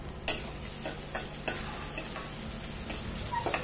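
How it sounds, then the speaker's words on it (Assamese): Grated ginger frying in a pan gives a steady close sizzle, broken by several scraping stirs of a utensil against the pan. "মই আদাখিনি ইয়াৰ লগত ভালদৰে ভাজি ল'ম"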